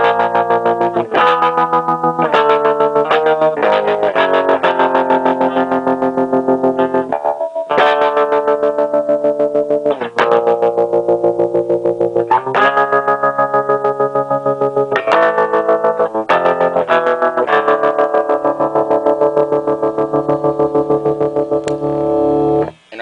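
Electric guitar chords played through a Rocket 7199 amplifier with Jensen Alnico speaker, its vibrato effect pulsing and wavering, strummed repeatedly over a sustained stretch with no speech.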